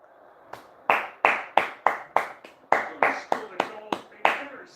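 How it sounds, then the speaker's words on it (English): A single person claps hands about a dozen times in a steady, slightly uneven rhythm, sharp and close. "I'm applauding that to Ryan, by the way."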